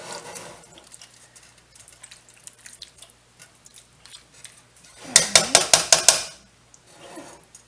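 A zucchini, sausage and rice mixture is stirred in a pan on low heat, with quiet scraping at first and then a short run of rapid, loud utensil clanks against the pan.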